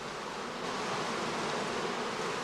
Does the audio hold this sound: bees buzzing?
yes